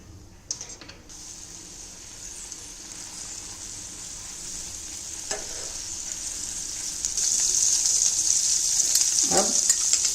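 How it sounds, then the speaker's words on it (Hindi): Green chili, ginger and garlic paste fries in hot oil for chapdi undhiyu, with close hissing sizzle that builds louder toward the end and a few light stirring scrapes, no talking. "तेल गरम हो जाए बाद में इसमें हम हरी मिर्च, अदरक और लहसुन की पेस्ट डालेंगे"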